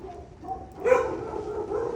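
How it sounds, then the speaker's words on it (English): Neighborhood dogs bark in a short outburst a little way off, a couple of muffled yaps followed by a louder bark-like burst that trails into lingering canine noise. "you'll hear the inside dogs barking, and then you'll hear the outside dogs barking"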